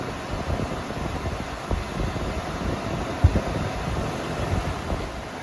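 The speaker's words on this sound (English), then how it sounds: "So far it's blowing really hot air." An RV furnace blows hot air in a steady, broadband rushing hum, loud and close, with a few faint knocks and no talking.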